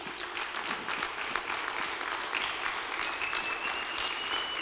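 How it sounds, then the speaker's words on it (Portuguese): A church congregation claps during a Sunday worship service, steady dense applause heard at moderate distance, sustained without break for several seconds. "Uma salva de palmas para Jesus."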